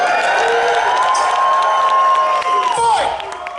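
A crowd at an armored combat tournament cheers and whoops loudly, a sustained roar of voices with high shouts that tails off at the end.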